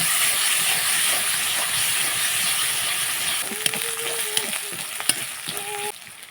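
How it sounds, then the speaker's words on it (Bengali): Onion, garlic, cumin and green chili paste fries in hot oil, a steady close sizzle and hiss with a few scraping stirs and clinks near the end, which stops abruptly. "তেল দিয়েছি পেঁয়াজ বাটা দিয়েছি রসুন বাটা দিয়েছি জিরে বাটা দিয়েছি কাঁচা লঙ্কা বাটা দিয়ে ভালো করে মশলাটা বেঁচে নিব"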